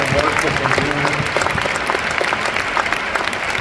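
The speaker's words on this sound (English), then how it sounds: "Can we give another round of applause for Dr. DeBell and Dr. Misha" Audience giving a round of applause for two doctors at a presentation, continuous dense clapping, loud and close, sustained evenly without pause.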